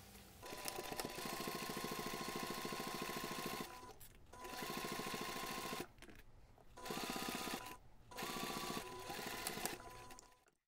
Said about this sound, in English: Then we can take this to the machine and sew the seam.